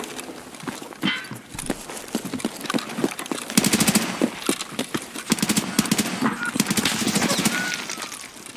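Mosin rifle and other gunfire in an online shooter game, a quick run of sharp cracks with fast bursts over a busy background, while players talk over the action.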